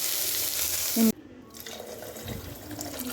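Water is tipped briefly into a cooking pot of avarekalu sambar, a short splashing pour that cuts off abruptly, followed by quieter kitchen clatter.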